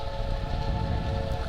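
Rain falls on a farm in the video game Stardew Valley as a steady, even patter with a faint tonal hum beneath, heard alone for a moment.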